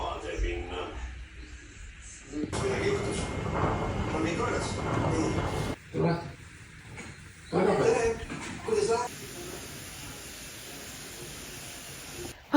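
Dogs out on an evening walk in damp, overcast autumn weather bark and whimper in short, uneven bursts, with yips between quieter stretches, fairly close by.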